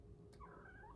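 A house cat gives a single short, faint meow, rising and then trailing off, indoors against a quiet room hum.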